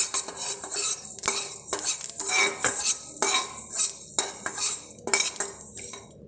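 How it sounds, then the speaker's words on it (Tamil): Cumin, cardamom and dry ginger are dry roasted in a kadai, with a metal spoon scraping and clinking against the pan in quick, irregular strokes close to the listener and no voices. "இதெல்லாம் போட்டு ஒரு கடாயில் போட்டு நல்லா வறுத்துக்கணும்"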